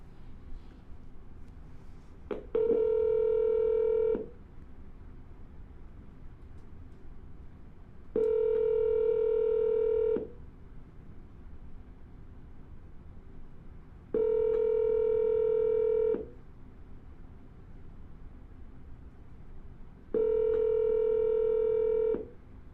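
Four evenly spaced ringback tones on an outgoing phone call, each about two seconds long with gaps of roughly four seconds, heard clearly over a low background hum with no talking.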